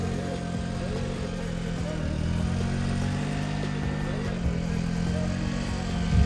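A Hero Splendor motorcycle engine drones steadily, straining under load at a constant pitch as it climbs uphill on snow, with faint voices in the background.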